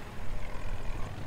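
A helicopter in the video game Battlefield 2042 gives a steady, loud, close rotor and engine roar that fills the whole short moment, with no talk.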